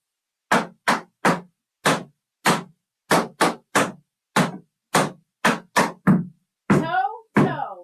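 Tap shoes strike a floor in a string of about a dozen crisp, evenly spaced heel and scuff steps, close and loud, ending with a couple of longer scraping scuffs.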